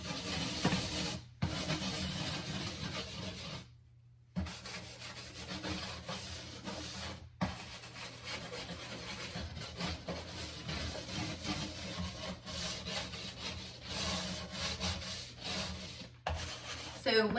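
A brush scrubs a baking soda mixture around a surface, steady gritty rubbing strokes continuing close and loud with a few brief pauses, no talking.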